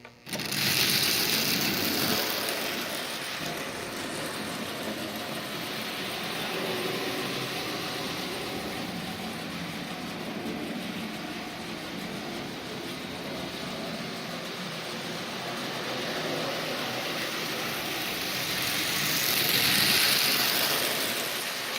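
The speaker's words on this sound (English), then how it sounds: "That's a lot of weight that little motor's pushing." A small Marx micro-motor with a magnetic wiper hauls a load of heavy Lionel train cars weighing over a pound, giving a steady, continuous mechanical whir and rumble with no talk, swelling slightly near the end.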